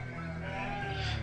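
Sheep bleating in the village-building game Banished, a steady wavering animal call held over a continuous game ambience and music bed, with no voices.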